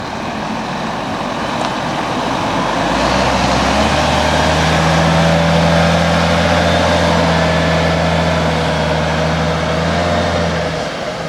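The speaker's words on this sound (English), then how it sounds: "Wheatley's 2006 sleek grey Volvo. Rolls forward" A 2006 grey Volvo truck towing a large colour-matched living wagon rolls forward, a loud steady diesel rumble with a low engine drone that deepens and holds near and constant, with no voices.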